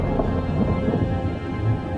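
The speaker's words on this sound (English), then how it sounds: "The monsoon is here." Monsoon rain pours steadily at an eco park, with deep rumbles of thunder rolling underneath a dense, continuous wash of falling water, loud and close throughout.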